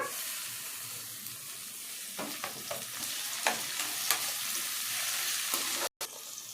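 Onions and tomatoes fry together in a pan, a steady crackling sizzle close by with repeated spoon-stirring scrapes and clicks, and a brief dropout near the end.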